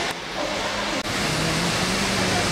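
A small waterfall rushes in a steady, dense hiss that stays constant and fairly loud, with no other sounds standing out.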